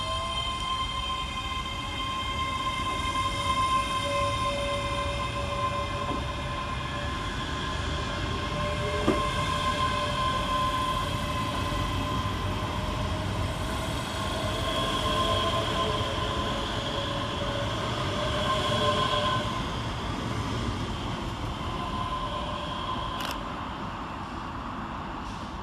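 ScotRail class 385 electric multiple units 385033 and 385046 at Motherwell station hum steadily for the whole stretch, with a sustained whine and a low rolling rumble and no break in the noise.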